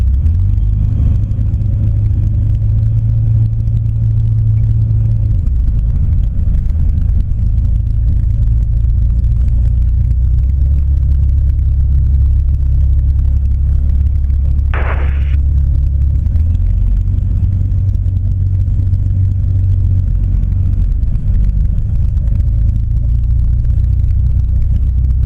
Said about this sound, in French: Juliette, piste 36, je décolle